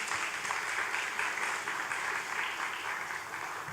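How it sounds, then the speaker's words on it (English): Steady applause from the audience at a 2024 school graduation ceremony, a sustained round of clapping from a large crowd heard moderately soft and continuous, without talk over it. "Please give her a round of applause."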